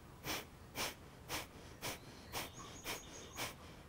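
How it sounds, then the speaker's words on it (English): Kapalabhati pranayama breathing, with seven forceful, evenly spaced exhales snorted through the nose about every half second, close and fairly quiet, with no talking. "So Kapalabhati breathing"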